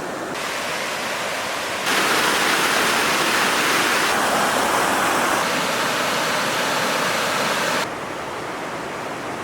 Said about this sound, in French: on est allé à la cascade de Goro, juste histoire de se baigner un peu